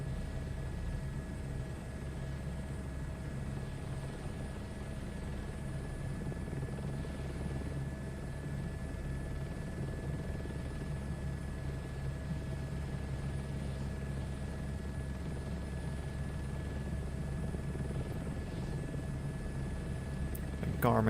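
A helicopter in flight, its engine and rotor droning steadily and loud throughout, with occasional voices talking over the continuous low thrum.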